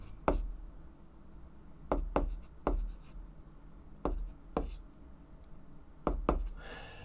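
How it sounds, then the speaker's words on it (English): Pen on paper while a math question on negative exponents and brackets is written out: close, distinct taps and short scratchy strokes in an irregular rhythm, about a dozen sharp marks with quiet pauses between them. "go directly to the right of that, and write down a new question"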